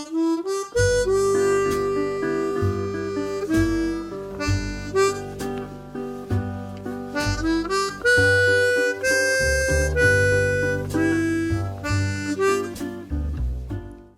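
Harmonica playing in triplet rhythm, a continuous stream of reedy chords and bright single notes with a steady lilting pulse, loud and close with no talking over it.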